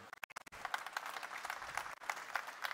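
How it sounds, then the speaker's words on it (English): A conference audience applauds. A few sharp, close, separate claps open the sound, then a fairly quiet spread of many hands clapping carries on for the rest. "That's applause."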